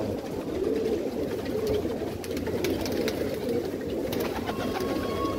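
A loft full of pigeons coos steadily, with overlapping low, rolling calls close by and soft wing flutters and scuffles among them.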